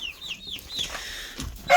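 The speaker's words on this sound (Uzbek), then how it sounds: "O'zimizning jo'jalar." Home-hatched chicks and hens cluck and peep close by, with high chirping calls and short clucks coming in quick bursts and a louder call at the end, with no talk.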